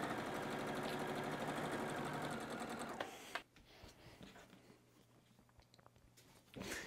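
A sewing machine runs at a fast, steady clip for about three seconds, joining rows of batik quilt blocks, then stops abruptly. Soft handling noises of fabric follow.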